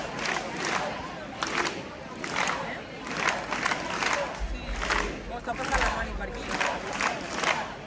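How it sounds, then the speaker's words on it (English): A marching crowd at a Catalan independence rally in Barcelona chants in loud rhythmic bursts, voices swelling and falling in repeated waves, with some clapping and a low rumble beneath. "the crowd is making their way to Arc de Triomf, with flags waving and chants filling the air"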